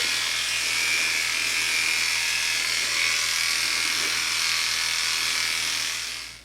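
Electric clippers fitted with a 1-inch blade hum steadily and evenly at close range while trimming an Old English Sheepdog's coat, then wind down at the end. No voices are heard.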